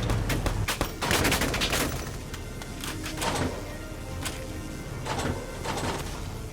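Rapid bursts of gunfire in the Valkyria Chronicles 4 game, sharp repeated cracks in uneven volleys running throughout, loud and close with no voices over them.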